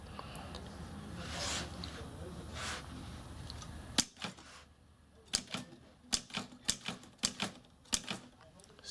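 A cipher typewriter is struck in a string of crisp, uneven mechanical key clacks, close and distinct, after a stretch of rustling handling noise.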